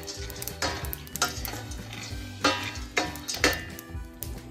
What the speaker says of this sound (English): And now I'm roasting these chirunjis.